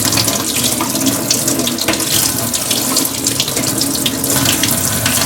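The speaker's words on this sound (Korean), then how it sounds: "물을 위에서 뿌려보고 아래도 뿌려보고 있습니다" Water sprays steadily and loudly onto a waterproof phone case holding a Galaxy S4, a continuous hissing splash like a running tap with no pauses and no voices.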